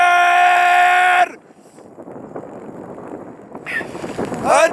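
Strong wind buffeting the microphone of a solar trike rider camping in Alberta, a rough, low rumbling gust running through most of the clip, with a louder tonal blast at the start and near the end.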